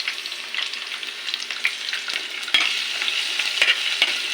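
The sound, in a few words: sautéing onion in a pan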